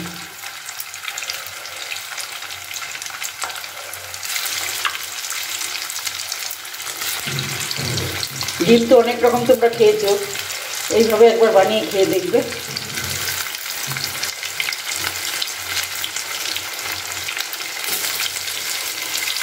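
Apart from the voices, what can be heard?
egg barfi pieces frying in hot oil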